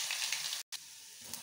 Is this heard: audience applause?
no